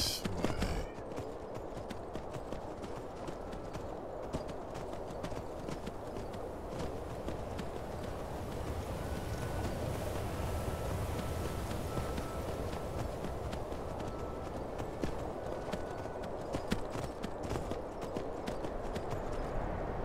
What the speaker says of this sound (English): Okay, there's a heap of horses down here.